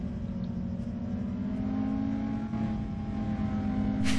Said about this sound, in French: Et rien que le bruit de ce moteur